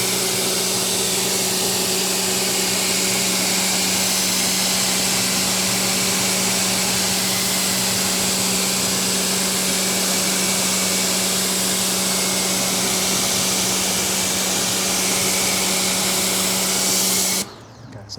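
A pressure washer motor runs loudly and steadily while a car's ceramic coating is rinsed, giving a constant high whine with a low hum beneath, then cuts off abruptly near the end.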